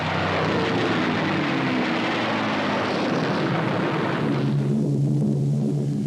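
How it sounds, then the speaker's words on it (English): Carrier task force warplanes sweep over a shelled industrial area in a World War II attack, a loud, steady engine roar that fills the whole stretch and shifts slightly in pitch toward the end, with no voices. "After the shelling, planes of the task force follow up with sweeping attacks on the stricken area."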